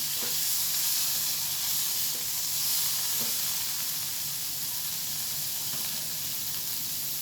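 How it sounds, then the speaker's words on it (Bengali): Bitter gourd slices sizzle and fry steadily in a pan with a constant hiss, with occasional faint clicks of stirring spaced through the sound. "সেখানে আমি উচ্ছেগুলো দিয়ে দিয়েছি সেখানে দিয়ে একটু নেড়ে নিলাম"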